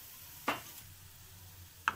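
Fenugreek seeds, cumin and red chili hit hot oil for a tadka for kadhi pakora, giving two short, quiet sizzling bursts separated by a soft lull.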